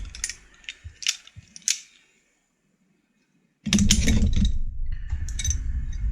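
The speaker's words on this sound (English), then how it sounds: "Pair of locking vice grip pliers, cheap Husky brand." Cheap Husky-brand locking vise grip pliers are handled, giving a few sharp metallic clicks, then a pause, then a louder stretch of close clattering and rustling.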